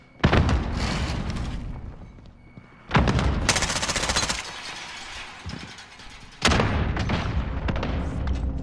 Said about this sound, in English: Enemies taking shots.